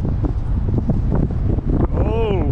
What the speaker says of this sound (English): Oh, when it's getting windy.